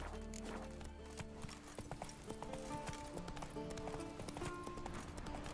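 Roach the horse in The Witcher 3 clops along with quick, regular hoofbeats under a game music score, with light voice sounds mixed in.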